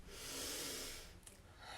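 A soft nasal breath made with the tongue pressed to the roof of the mouth, a close, quiet airy exhale that swells and fades, then a faint snort-like catch.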